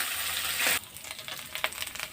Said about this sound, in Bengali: ঠিকঠাক করে এবার মাছগুলো আমি একটু হালকা ভাজা হতে দেবো।